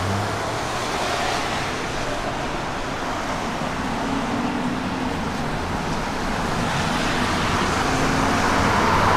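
A 1966 Dodge Coronet 500 with a professionally built engine runs close by, giving a steady, even rumble that holds at the same level throughout, with no talking.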